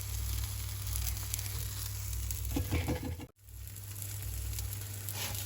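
A cheese-filled palatschinken pancake cooks in a pan with a constant crackling sizzle, close and even throughout, broken once by a very brief silent dropout before the frying noise resumes.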